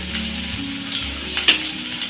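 Turmeric and chilli powder frying in hot oil for a Kerala-style snake gourd stir-fry, a steady close sizzle with a brief louder crackle partway through and no talking.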